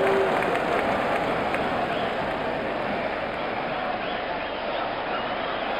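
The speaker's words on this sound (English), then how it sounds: "Crowd is going crazy here." A cricket match crowd roars and applauds steadily for several seconds, a dense, loud, continuous wash of cheering from a large stadium audience with no pauses.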